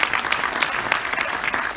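An audience claps for Esther at a talk by Rabbi Mayshe Schwartz, with dense, steady applause that stays fairly loud throughout.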